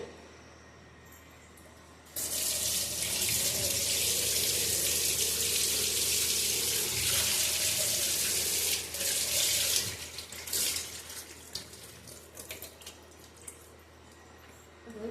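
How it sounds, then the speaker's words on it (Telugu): Water from a kitchen sink tap gushes steadily while a strainer and mat are rinsed under it, a loud continuous splash that breaks into uneven splatters before stopping. "దీన్ని ఇప్పుడు షింక్ కింద ఒకసారి తొలిచేస్తానండి."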